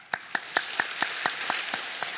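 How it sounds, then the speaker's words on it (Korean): Church congregation at a Korean Sunday worship service clapping in unison to console a bereaved family: about nine even, rhythmic claps over a soft bed of scattered applause, moderately close and with no talking. "우리 박수로 위로하도록 하겠습니다"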